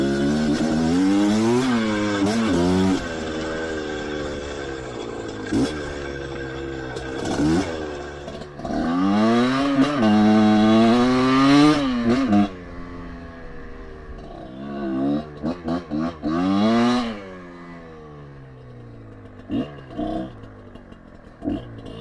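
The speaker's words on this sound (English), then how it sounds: "this is going to be a water-cooled motorcycle, so you can run this thing all day long without it overheating" Kayo water-cooled four-stroke dirt bike engine revving repeatedly in rising and falling surges, loud and close, with throttle blips and idling dips between pulls; no talk.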